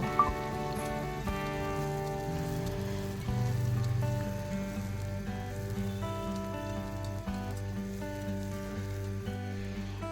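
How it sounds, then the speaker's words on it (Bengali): Chopped onions fry to golden brown in a pan over a medium gas flame, producing a soft, steady sizzling hiss that continues throughout. "এই সময় গ্যাসের ফ্লেমটাকে মিডিয়ামে রেখে পেঁয়াজটাকে গোল্ডেন ব্রাউন করে ভেজে নেব"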